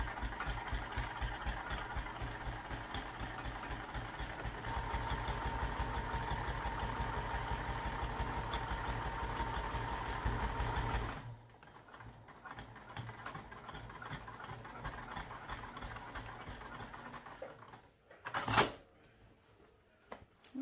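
A sewing machine top-stitching a backpack seam hums in a steady, close whir for about ten seconds, then stops; quieter handling follows with one sharp clack near the end.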